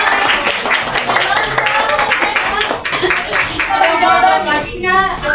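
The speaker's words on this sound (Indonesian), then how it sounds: "Tepuk tangan dulu dong." Students in a classroom clap their hands together, a fairly loud patter of many claps mixed with voices talking and chattering over it throughout.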